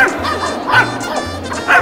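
Dogs at a dog show give short, repeated barks and yips in quick bursts, close and loud, with a whimpering edge in places and some background noise from the hall.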